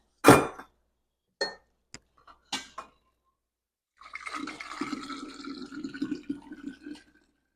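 Hot vegetable broth pours into a strainer with a steady splashing, gurgling flow that runs for about three seconds, after a few sharp knocks and clinks from the pot and utensils.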